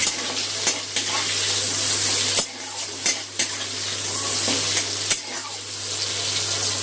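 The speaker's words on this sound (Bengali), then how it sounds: "পেঁয়াজটা একটু তেলে ভেজে নেব" Finely chopped small onions sizzle and fry in hot oil after the whole spices, with a steady bright hiss broken by a few sharp spoon clinks and stirring scrapes against the pan.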